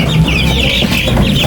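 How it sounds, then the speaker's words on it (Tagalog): A flock of 18 chickens in a coop cluck loudly and continuously close by, their overlapping calls filling the short clip. "18 po ang ating mga manok"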